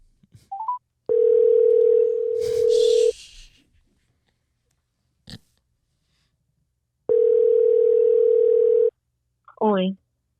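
A telephone dial tone sounds in two long steady stretches while a call is placed for a podcast, with brief clicks and a short electronic chirp between them and a little voice at the start.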